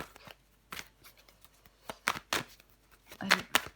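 Tarot cards are handled and laid down on a table, giving soft, close papery slaps and brushing sounds. The bursts come in uneven clusters, quiet, with faint speech nearby.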